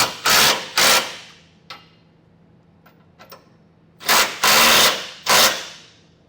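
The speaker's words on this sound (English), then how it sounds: "we'll come back with a 19mm socket, snug those down" Bursts of a power tool driving a 19mm socket snug hitch bolts on a Curt trailer hitch receiver under a 2023 Ford Maverick: two short loud bursts, a quiet gap with faint clicks, then three more bursts, close up.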